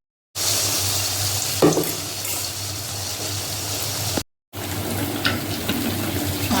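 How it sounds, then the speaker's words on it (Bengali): Jackfruit malpua frying in hot oil, a steady broadband sizzle running continuously at close range, briefly cutting out near the end, with a couple of faint clinks and no talking. "মা এখানে ভাজাভাজি চলছে"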